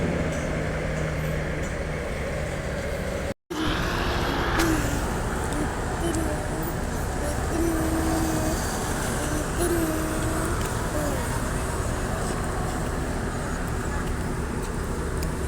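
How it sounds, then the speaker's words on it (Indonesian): The engine of an NPM bus idles at a maintenance pool after repair work on a cracked brake drum, a constant low mechanical rumble with faint tonal whines, briefly cut out once, with people talking nearby. "Ini bus NPM sudah dinyalakan ya mesinnya ya"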